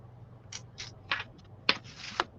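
Scissors trim the edges of a paper bag for a paper bag book, producing a series of about six quiet, close snips and paper scrapes spaced unevenly, with no voices.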